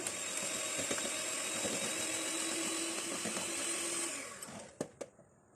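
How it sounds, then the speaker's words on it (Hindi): An electric hand mixer beats 75 grams of butter for almond fudge cookies, a steady close whir running for about four seconds before winding down, followed by a couple of light knocks. "सबसे पहले हम इस मक्खन को बीट कर लेते हैं थोड़ा सा।"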